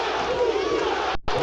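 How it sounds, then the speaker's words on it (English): Boxing arena crowd chanting "Too Sharp" in unison, a loud dense roar of many voices that drops out sharply near the end. "The whole crowd is starting to chant, Too Sharp."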